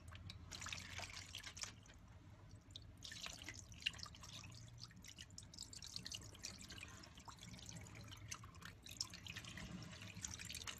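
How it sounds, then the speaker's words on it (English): Photographic fixer poured over a handmade glass plate in a tray, a steady, quiet liquid trickle and patter with dripping, running continuously throughout without talk. "pour fixer over it"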